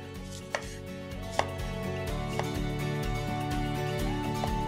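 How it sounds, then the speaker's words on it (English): A knife thinly slicing a lemon on a cutting board in a cooking-school kitchen. It makes a few crisp taps against the board at an irregular pace over a steady background hum, with no talking. "we'll thinly slice one lemon."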